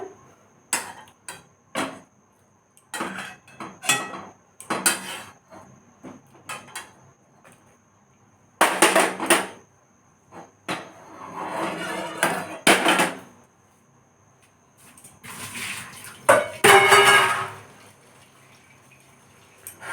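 Boiled cauliflower, tomato and green chilli lifted from a pot onto a plate, heard as a string of close clattering knocks of a utensil against metal and dishes, with brief bursts of bubbling and hissing in between.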